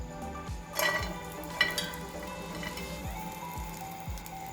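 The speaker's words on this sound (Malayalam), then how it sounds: "നമുക്കിതിലേക്ക് തേങ്ങ ഇട്ട് കൊടുക്കാം" Grated coconut dry-roasts in a hot pan with a quiet, crackling sizzle and occasional soft scraping of a spoon stirring, for a roasted coconut chutney.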